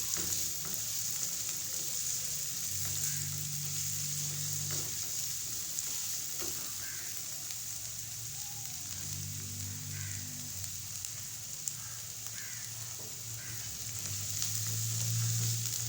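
Chicken bun filling sautéing in a frying pan, with a steady, fairly quiet sizzle and hiss throughout and occasional utensil stirring and light scraping.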